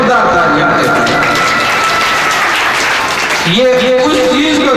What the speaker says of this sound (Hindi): जोरदार तालियां देते हैं।